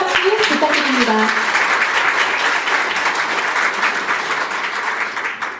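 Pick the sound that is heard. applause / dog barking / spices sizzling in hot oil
applause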